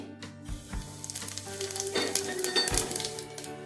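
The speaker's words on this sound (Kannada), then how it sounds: "ಎಣ್ಣೆ ಬಿಸಿಯಾಗಿದೆ ಇದಕ್ಕೆ ಒಂದು ಸ್ಪೂನ್ ಜೀರಿಗೆ ಹಾಕ್ತಾ ಇದ್ದೀನಿ" Cumin seeds dropped into hot oil for a fenugreek pulao, a bright crackling sizzle that flares up near the midpoint over a low background hum, close and alone with no speech.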